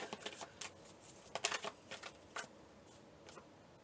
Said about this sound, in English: Let's pull some clarity cards here.